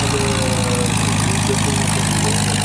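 A Zero T40 aircraft engine runs steadily at an air show as the plane is started and taxis ahead, giving a continuous loud droning rumble with no talk throughout.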